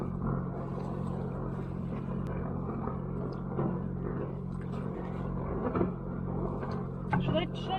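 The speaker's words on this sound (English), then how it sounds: "Should I shut down the generator?" A generator runs aboard a liveaboard trawler, a steady low droning hum with a constant tonal rumble filling the background, while voices and small knocks come and go over it.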